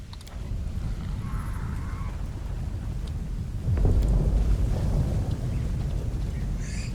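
Thunder rumbles in the video game Pathfinder: Wrath of the Righteous, a low roar that swells midway and carries on under faint wind-like noise, with no speech.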